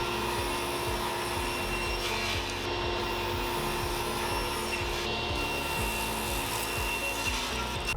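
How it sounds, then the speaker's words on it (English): A table saw cuts wood with a Rockler tapering jig, giving a steady, loud whirring hum and rough cutting noise throughout, with no talk. "Then I use the Rockler tapering jig, which easily allows me to chop away the material not needed on 2 sides."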